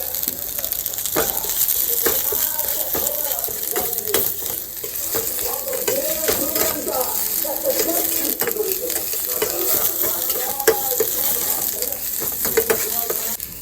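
Garlic paste and chili paste fry and sizzle in hot oil with onions, a steady close crackle with occasional stirring scrapes throughout and no talking.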